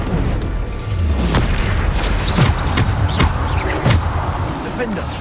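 Bombarda spell blasts go off in Hogwarts Legacy as a string of sharp booming explosions at irregular intervals. They sit over a continuous rumbling game background, with a voice calling out spell names between the blasts.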